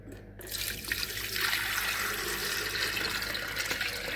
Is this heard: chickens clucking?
no